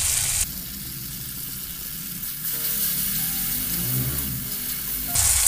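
Ground paste of onion, ginger and garlic going into a hot pan of softened tomato for baingan bharta, sizzling steadily and loudly up close, the frying hiss swelling as the paste is stirred in.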